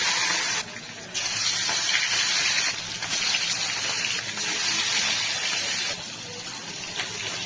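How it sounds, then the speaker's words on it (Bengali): Rohu fish pieces rubbed with salt and turmeric sizzle in hot mustard oil, a continuous loud hissing spatter that surges and dips in a few waves. "নুন হলুদে মাখা মাছটা চলে যাবে এবার তেলের মধ্যে"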